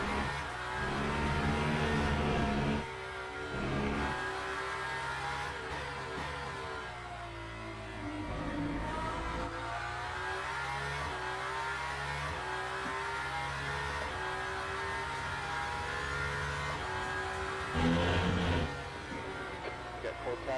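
Aston Martin race car engine in Le Mans Ultimate at Qatar, a steady droning tone that rises and falls with gear changes over twenty seconds, with someone talking over it.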